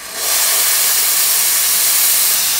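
Steam hisses from a coffee machine's wand in a newly set-up café, a loud, steady high rush that swells in within the first fraction of a second and keeps going unbroken.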